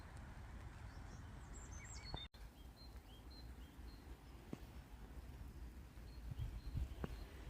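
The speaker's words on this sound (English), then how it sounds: "The bird song you can hear is robins and great tits, according to Merlin Bird ID." Robins and great tits sing in scattered high chirps and short phrases, faint and distant over a steady outdoor hiss, with a sharp break partway through, in the UK.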